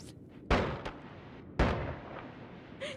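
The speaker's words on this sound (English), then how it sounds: "It's a shotgun with small spread." Two sharp shotgun blasts from the video game Noita, a small-spread shotgun, each a loud crack with a short decaying tail, about a second apart, followed by a faint softer pop.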